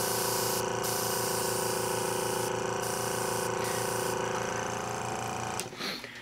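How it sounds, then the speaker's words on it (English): An airbrush with its needle removed blows only air, a loud steady hiss over a constant mechanical hum that runs for several seconds and then cuts off abruptly near the end. "there's no needle in here, so it's just going to spray air, but see how loud that sounds?"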